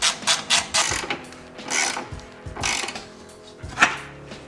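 A hand ratchet works loose the upper control arm bolts on a Honda Accord coupe in a garage: bursts of rapid, close metallic clicking in uneven strokes with brief pauses between.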